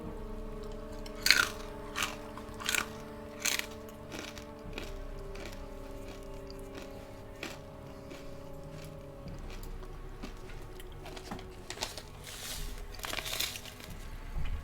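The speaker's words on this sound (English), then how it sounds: "Corn Nuts remain crunchy throughout the chewing process" Close-up chewing of crunchy Corn Nuts, with repeated sharp crunches at an irregular pace throughout, staying crisp from start to finish over a steady low hum.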